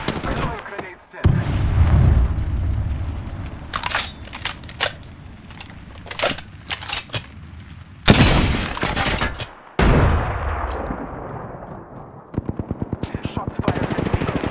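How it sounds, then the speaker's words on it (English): Rapid automatic gunfire and single shots in the Apex Legends battle royale game, loud and close in dense bursts with sharp gaps, finishing in a quick rattling volley. "Shots fired at me."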